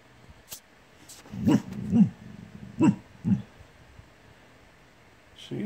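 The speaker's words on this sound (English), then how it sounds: "She's barking at nothing," A white Boxer dog barks several times in short, spaced bursts, somewhat distant and muffled against a quiet background.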